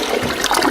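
A toilet flushing in a short, steady rush of water, fairly loud and close, heard alone with no voices.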